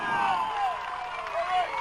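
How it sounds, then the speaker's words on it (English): Gloucester High School football crowd applauding a defensive stand by the Fishermen, a steady wash of clapping and murmuring spectators, with a PA or announcer's voice under it. "Gloucester crowd is appreciative of the defensive stand by the Fishermen"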